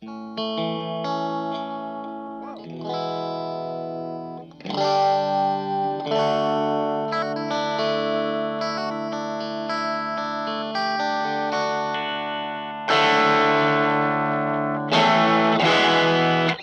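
An electric guitar with a distorted tone plays sustained chords and notes, ringing out with a slightly cleaner edge, loud and alone without any talking.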